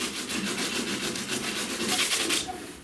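Fiberglass on a crashed boat being sanded to rough it up, a steady rhythmic scratchy rubbing of repeated strokes, close and fairly quiet, with no talking.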